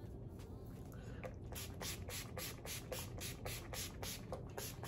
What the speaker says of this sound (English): I'm gonna put on some setting spray.